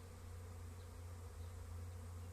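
Honeybee swarm droning steadily at an apiary in the morning, a dense, continuous low buzz holding at even loudness throughout with no voices.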